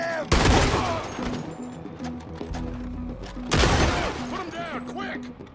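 Gunfire in the Red Dead Redemption II video game during a bounty escape: two loud booming volleys with ringing tails, plus horse and game sounds and a steady musical drone underneath.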